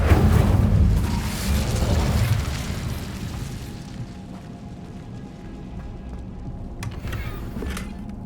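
A deep booming fire burst from the Incendio spell in Hogwarts Legacy, loud at first and then rolling into a long rumbling fade with crackling debris, no talk over it.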